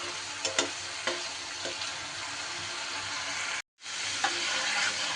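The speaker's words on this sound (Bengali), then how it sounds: "পেঁয়াজটা যখন এইভাবে একটু হালকা লাল লাল করে ভাজা হয়ে যাবে" Onions fry in a pan on a home stove, giving a steady close sizzle with occasional stirring clinks, broken by a brief silent gap before the frying resumes.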